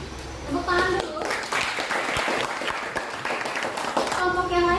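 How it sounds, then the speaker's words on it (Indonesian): Classroom applause after a group presentation: a dense, steady burst of many hands clapping from students, filling the room for several seconds with a voice speaking over the start and end. "Tepuk tangan dulu."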